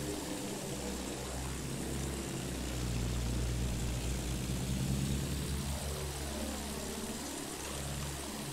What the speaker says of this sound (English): Enemy plane!